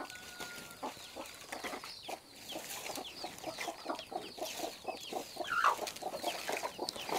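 Chickens wander around a rural house and cluck in quick, repeated bursts. The calls overlap in a busy, uneven rhythm at moderate distance, and no talking is heard.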